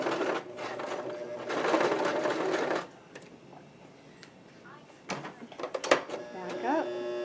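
A domestic sewing machine stitches a skirt onto a bodice for a Princess Peach costume, running in a steady loud whirring burst, pausing, then starting again in short runs while a person talks nearby.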